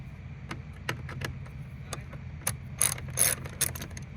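A hand screwdriver backs out Phillips screws on a Dodge Hellcat with a 6.4 or 5.7 Hemi, making rapid ratcheting clicks in close irregular bursts that grow louder near the end, with no one talking.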